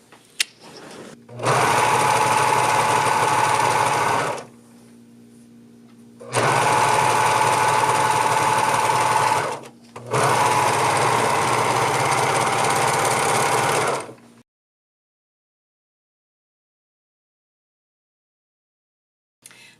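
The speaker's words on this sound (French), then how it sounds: "je vais aller faire ma finition au surjet" Serger overlocking the finishing seam on a dolman sweater, running in three loud steady bursts of a few seconds each with short pauses between, then stopping into silence.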